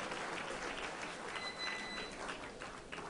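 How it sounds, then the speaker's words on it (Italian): Audience applause for the director of the Monte Carlo Nights Orchestra at the Blue Note jazz club in Milan, a dense, even patter of many hands heard at some distance and sustained for about three seconds. "un applauso anche per Gabriele Comelio, direttore della Monte Carlo Nights Orchestra"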